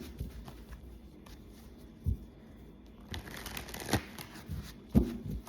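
Tarot cards shuffled by hand in several soft, papery bursts, with sharper riffles near the end, close and quiet with no voices.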